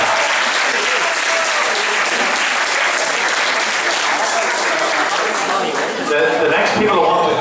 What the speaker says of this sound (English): So a round of applause for James and Pat.